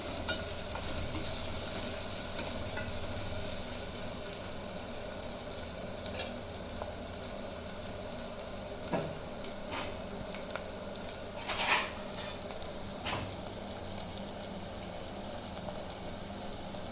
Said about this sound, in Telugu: జీరా పౌడర్ కూడా పోపులోనే వేసుకోవాలండి